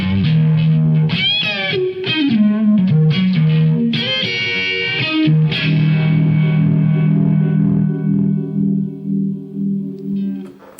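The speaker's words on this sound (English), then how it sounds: "I use this Phase 45 because it doesn't sound like a phase pedal. It sounds more like a univibe" An electric guitar plays through an old MXR Phase 45 phaser pedal, giving a warm, swirling, univibe-like tone. It is played alone as close chords and single-note phrases that ring out and fade at the end.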